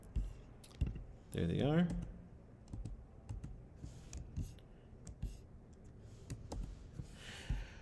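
A computer mouse clicking and dragging while drawing squares for a colour palette, heard as scattered sharp clicks with soft tapping between them, plus a short spoken remark and a faint breathy sound.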